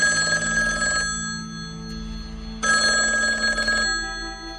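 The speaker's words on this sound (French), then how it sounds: "le téléphone sonne dans le vide." Telephone ringing unanswered in a duplex residence, two long electronic bell rings separated by a pause, loud and close with no one picking up.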